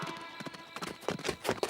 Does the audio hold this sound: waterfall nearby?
no